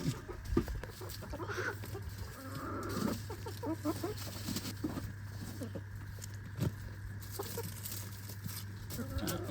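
Four backyard hens cluck softly in a garden, low and scattered over a constant hum, with no talking.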